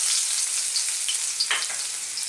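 Chopped garlic sizzling in hot cooking oil in a wok, a steady bright hiss with a brief spattering burst partway through, no talking.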